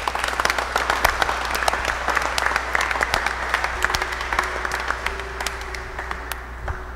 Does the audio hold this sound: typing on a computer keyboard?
no